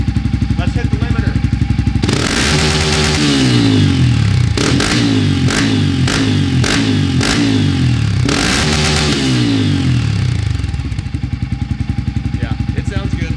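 Honda CRF250F dirt bike with a Tuscany Racing exhaust, idling with a loud, throaty pop before revving hard several times, repeatedly bouncing off the rev limiter in quick stuttering bursts, then settling back to idle.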